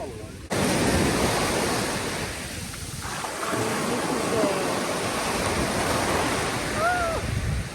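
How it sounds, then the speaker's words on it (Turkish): Steady roar of sea waves breaking and washing in on the coast of Mallorca, loud and continuous, with wind buffeting the microphone and faint distant voices. "Ama dalgalar çok güzel ya."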